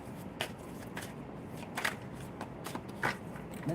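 Tarot cards being shuffled in several quick riffling bursts, close and fairly quiet, with brief pauses between them and no talking.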